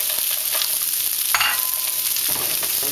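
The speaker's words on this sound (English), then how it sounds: "you can hear the sizzling" Frozen mixed vegetables and rice crackle and sizzle loudly in a hot pan, close up. A sharp burst of stirring cuts in partway through, and no one speaks.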